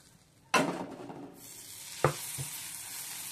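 Batter of cabbage and egg for a patty hits a hot pan with a loud sizzle that settles into a steady crackling fry, with a second sharp splash of batter about a second and a half later.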